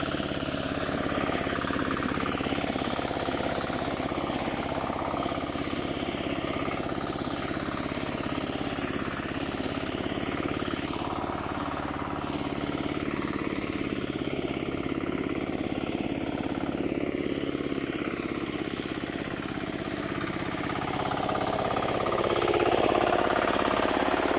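A steady motor engine drones continuously outdoors in a farm field, loud and close, with a rough mechanical rumble that holds throughout.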